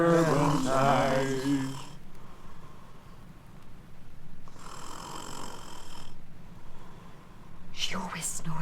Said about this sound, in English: She always snores like that when she's going off.